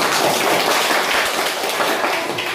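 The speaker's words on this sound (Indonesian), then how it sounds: "Tepuk tangan semua dulu." A classroom of students claps their hands together in dense, steady applause that holds at an even level for the whole stretch, with no voices over it.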